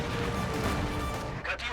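Dense, loud battlefield din of artillery fire and crashing impacts in Company of Heroes 2, a continuous rumbling roar with a brief dip near the end, under a speaking voice.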